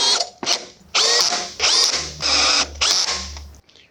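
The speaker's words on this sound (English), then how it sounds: "now we're going to go back and finish putting screws into the piano hinge" A power drill drives screws into the piano hinge of a screen door in four or five short, loud whirring bursts, separated by brief pauses, with no talking.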